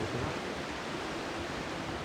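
The swollen Narayani river rushes in a flash flood after hill rain, a dense, constant roar of turbulent water with no other sound above it.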